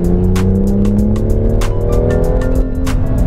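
A loud, aggressive modified exhaust roars up through the revs as a BMW M2 accelerates close by, with rapid popping crackles over the engine note.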